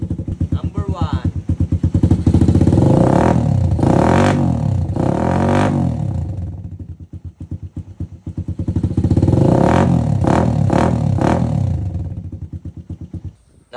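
A motorcycle with an open exhaust pipe revving hard twice, each loud rising roar over a rapid idle pulse, then dropping back between runs.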